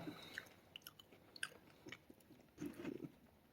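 Pringles Original potato crisps chewed close to the mouth, with sharp crunchy bites and soft wet mastication in irregular bursts, quiet and intimate, with a denser run of crunching near the end and no talking.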